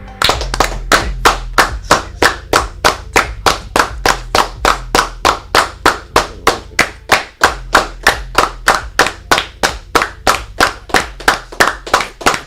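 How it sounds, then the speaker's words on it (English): A group of people clap their hands in steady unison, around thirty sharp, loud claps at a quick even rhythm, with no talking over them. "We have to do 100 claps."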